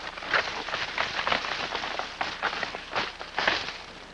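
Small bushes and brush are thrashed and scraped in imitation of a whitetail buck working plants with its antlers, a run of rough, irregular rustling bursts at close range with no voices.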